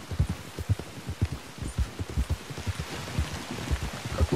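Rain in the video game Red Dead Redemption 2, heard as a dense patter of drops mixed with repeated soft, low thumps in an uneven rhythm, continuous and fairly close.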